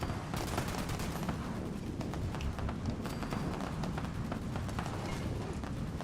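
Rapid gunfire in Fallout 76 crackles as a quick series of sharp, faint shots aimed at robots, over a constant dense game backdrop of rumble and hiss.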